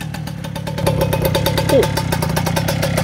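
A Honda Dio scooter with a titanium exhaust and a muted carburetor intake idles steadily nearby, a loud, even, throbbing putter that runs throughout, with a brief voice interjection over it.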